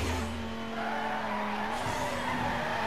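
A car drifting in Midnight Club Los Angeles, a four-wheel-drive racer sliding through a city corner with a steady engine drone and a sustained tire squeal, loud and continuous.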